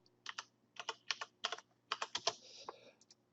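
Computer keyboard typing during a software tutorial: clusters of quick, close key clicks in short bursts with brief pauses, ending with a few isolated key presses such as Enter, with no voice over the keys.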